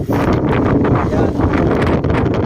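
Strong wind buffets the microphone on a mountaintop near Infanta, Quezon, producing a loud, continuous roaring rumble with gusty swells throughout.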